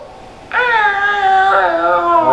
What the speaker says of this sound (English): I think I can make better cat noises than this.